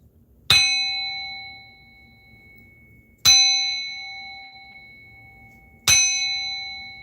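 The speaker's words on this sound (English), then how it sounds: "let's bang this bell, let's cleanse this energy" A bell is struck three times at steady intervals of about three seconds. Each clear metallic ring decays slowly before the next strike, and no voices are heard.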